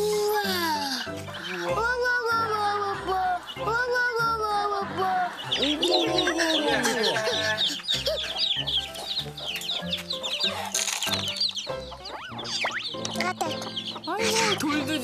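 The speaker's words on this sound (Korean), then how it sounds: "아, 병아리들." Chicks and chickens in a coop, with repeated clucks and high cheeps mixed together, close and lively, while children and adults talk over them throughout.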